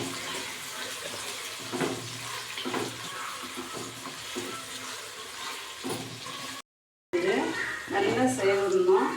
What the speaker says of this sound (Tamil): இப்போது வெங்காயம் வந்து ஒரு 350 கிராம் வெங்காயம் சேர்த்துக்கிறேன்.